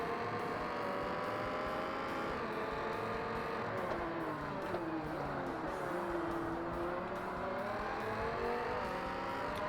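Race car engine in Forza Motorsport on hard difficulty, a continuous loud droning roar with rising and falling revs through gear changes and corners, no talk over it.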